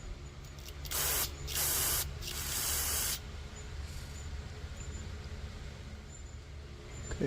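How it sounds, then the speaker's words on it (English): Carb cleaner sprays from an aerosol can in three quick hissing bursts close by, each lasting under a second, followed by quiet. "Take some carb cleaner."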